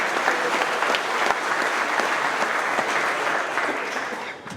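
A crowd applauds steadily at a trucking company employee recognition event, dense clapping at full strength throughout before easing off at the very end.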